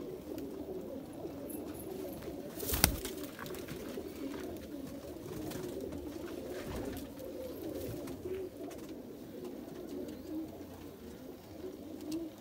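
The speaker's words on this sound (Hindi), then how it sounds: "ये उस कबूतर की फीमेल है।" Soft, low cooing of Kasuri pigeons repeats steadily throughout, with one brief sharp knock near the start.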